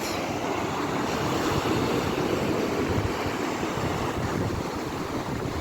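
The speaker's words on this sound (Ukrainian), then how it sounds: "Люблю шум моря." Loud, continuous roar of Black Sea waves breaking and washing on the shore at Odesa, close by, with no voices.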